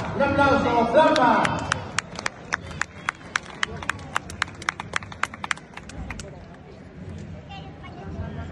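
A small crowd claps at an Arde Lucus Roman gladiator reenactment bout between Lucius and Vorenus, sparse distinct claps ringing out in a loose rhythm after talk, thinning out toward the end.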